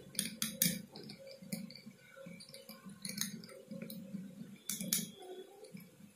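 Spoon stirring aloe vera gel paste in a small bowl, giving repeated light metallic clinks and scrapes in an irregular rhythm, close and fairly quiet.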